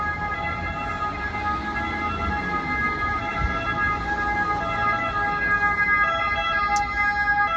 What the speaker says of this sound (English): That was an ambulance. It was really obnoxious.